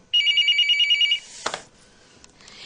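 A telephone rings in a TV drama scene, a rapid trilling electronic ring lasting about a second, then a sharp knock or click and a quiet room.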